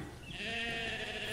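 A sheep from a flock gathered at a well lets out one clear, close bleat that rises and holds briefly before the clip ends.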